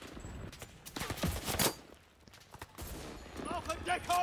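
Gunfire in the shooter game Enlisted, several bursts of shots clustered near the start and middle, loud and close, mixed with game sounds and brief bleeps near the end.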